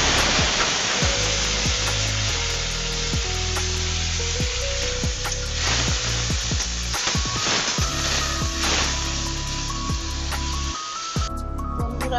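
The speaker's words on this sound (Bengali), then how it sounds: "এবারে এর মধ্যে আমি পেঁয়াজ বাটাটা দিয়ে দেবো" Onion paste frying in hot oil with whole garam masala, bay leaf and dried chillies, a loud continuous sizzle broken by scraping stirs against the pan, steady throughout, no voices.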